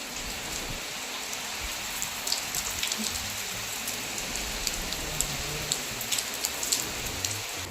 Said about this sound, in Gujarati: મારે તો જો વરસાદ આવે છે